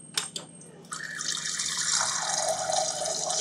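Reverse osmosis water from a booster-pumped system runs steadily through a refrigerator dispenser, starting after a few clicks and drips and then hissing as a continuous close stream under good pressure, with no talk.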